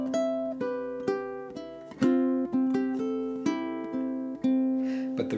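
Ukulele playing a fingerpicked melody that opens with a strum, followed by a steady run of plucked double-stop notes, close and clear with no voices.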